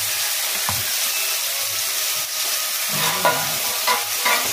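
Tomato cooks with chilli and garlic paste in a kadai, a loud steady frying hiss with spatula scrapes and knocks that come thicker toward the end as the paste gets stirred.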